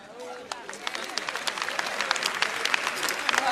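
A comedy show audience breaks into applause, scattered claps building into a fuller burst of clapping from the crowd, with a murmur of voices underneath.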